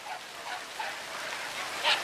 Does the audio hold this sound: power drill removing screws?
no